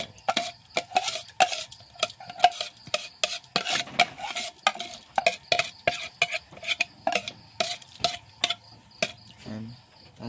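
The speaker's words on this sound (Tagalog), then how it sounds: "Tapos haluin lang natin siya" Rice porridge (lugaw) with meat is stirred in a pot, the spoon scraping and knocking against the metal in a steady, repeated rhythm while it simmers close by, with no one speaking.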